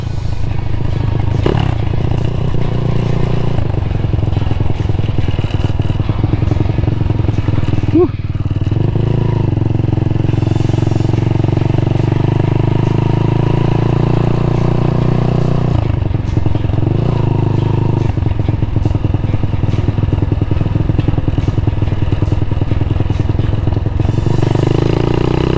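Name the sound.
Honda Monkey motorcycle engine with standard exhaust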